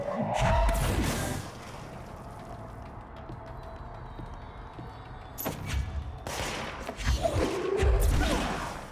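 Objects flung by telekinesis in the video game Control, heavy crashes and thuds with whooshing debris, arriving in several loud bursts separated by a quieter rumbling stretch.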